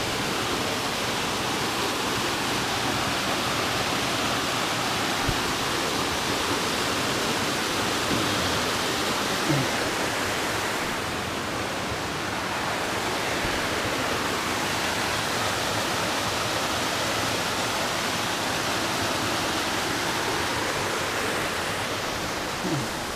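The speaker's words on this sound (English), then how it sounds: "and a nice little waterfall." A small waterfall on the Appalachian Trail near Winding Stair Gap pours steadily, its broad, even rushing hiss filling the scene close by with no voices.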